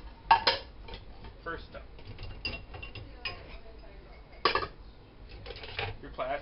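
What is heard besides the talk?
unloading bowls from a dishwasher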